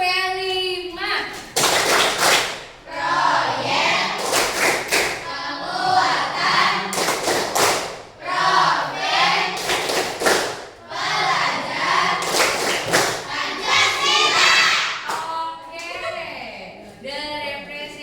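A classroom of students clapping hands in rhythmic bursts, several loud clap sequences spread across the stretch, with a teacher's voice and children speaking in between.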